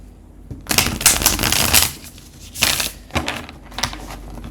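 A deck of cards shuffled up close, with several loud papery riffling bursts in a loose rhythm, each a second or so long with short gaps between.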